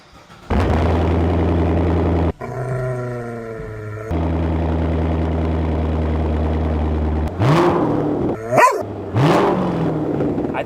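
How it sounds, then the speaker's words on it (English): Chevrolet Corvette C7 with a Borla exhaust cranks and fires into a loud, deep idle, then settles and is revved several times with sharp rising blips near the end. "I think that's how a Corvette is supposed to sound like"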